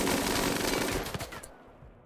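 Rapid automatic gunfire in the video game RimWorld during a firefight against a grenadier, a loud dense burst of shots that stops abruptly near the end.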